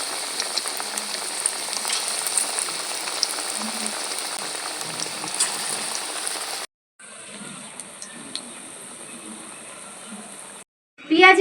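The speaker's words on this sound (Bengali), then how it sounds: "এখন আমি তুলে নিচ্ছি বাদবাকিগুলোও ভেজে নিচ্ছি" Battered onion fritters (piyaji) fry in hot oil with a continuous crackling sizzle, close and fairly loud, interrupted by two short silent breaks before a brief louder burst at the end.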